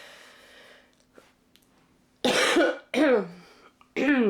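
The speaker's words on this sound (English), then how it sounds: "I'm having a bit of a coughing fit." Three harsh, loud coughs in quick succession, each a burst of rasping noise, following a stretch of quiet breathing.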